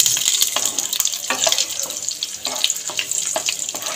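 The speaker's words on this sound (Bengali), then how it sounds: "প্রথমে কিশমিশ দিয়ে নেব, তার সাথে কাজুটাও ভেজে নেব" Raisins and cashews sizzle in hot oil while being lightly fried for dalia pulao, a steady close-up hiss with soft crackles and occasional spatters throughout.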